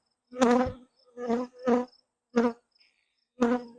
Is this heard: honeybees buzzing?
yes